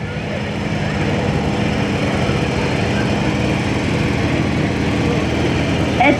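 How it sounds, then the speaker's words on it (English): A 1937 International Harvester T4 tractor runs at a steady chugging idle in an antique tractor parade, moderately loud and close with outdoor ambience. "It's a 1937 International Harvester T4 owned by Josh Barnes."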